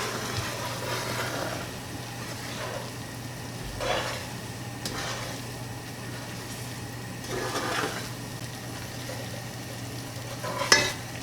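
English toffee stirred steadily in a pan as it heats, with a soft continuous sizzle and repeated scraping strokes of the spoon against the pan at a gentle rhythm.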